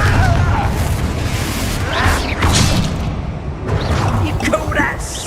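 Confringo explosive spells from Hogwarts Legacy bursting with booms and whooshes during a chaotic fight, loud and repeated, mixed with voices shouting over the action.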